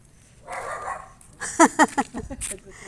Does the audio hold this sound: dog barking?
yes